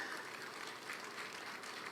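Applause from a political party gathering in Okhla, South Delhi, greeting the state president: a steady, dense wash of clapping at moderate level, continuous for the whole stretch with no voices over it.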